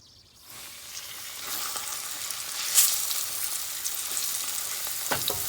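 Butterfish sizzles and crackles in very hot oil, a bright steady frying hiss rising after a quiet start, with a few sharper pops and spits along the way.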